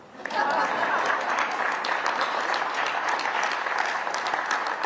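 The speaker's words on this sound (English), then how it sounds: "You're supposed to applaud." An audience applauds steadily at a city groundbreaking ceremony for a new O'Hare Airport terminal. The clapping swells in quickly and holds as a dense, even wash of many hands for several seconds.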